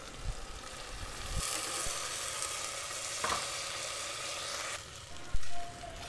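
Washed lentils and rice sizzle in a hot pan for sprouts khichdi, a continuous close frying hiss with occasional soft stirring knocks and a brief louder scrape near the end; no speech.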